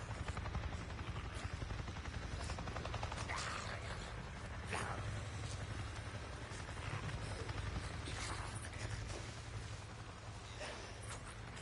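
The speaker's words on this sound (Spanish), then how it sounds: "Acabo de ver un maldito helicóptero." A helicopter flies overhead in the open-world game Days Gone, giving a continuous rotor drone with a fast chopping pulse that holds steady and fairly close across the stretch.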